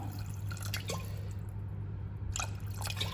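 Water is poured into a pot of split pea bissara soup, giving a few brief splashy drips and trickles over a low steady hum, soft and close, with a quiet gap in the middle.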